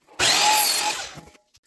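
A power saw cuts through a wooden cross beam for a garden chair, a single loud, harsh burst of about one second that starts abruptly and tapers off, then stops; no voices.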